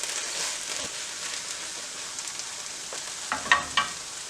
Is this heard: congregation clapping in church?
no